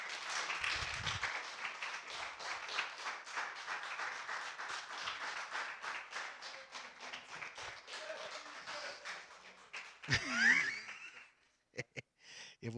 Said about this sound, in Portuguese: vamos recebê-los com uma grande salva de palmas